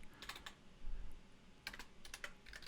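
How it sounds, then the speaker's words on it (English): Fingers type on a computer keyboard in quick clusters of soft clicks separated by short pauses, close and quiet, with no voices. "Now you can all watch me type in Discord"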